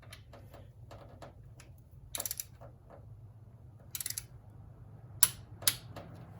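Torque wrench tightening an alternator bolt on a 1980 VW Rabbit convertible, giving a few short ratcheting clicks with two sharper, brighter clicks near the end, close up over a low steady hum.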